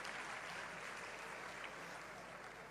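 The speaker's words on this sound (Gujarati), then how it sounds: "એમને આપણે તાળીઓથી વધાવો" Faint, steady applause from a crowd at a religious gathering honours volunteer women, heard as an even, distant wash of clapping without breaks.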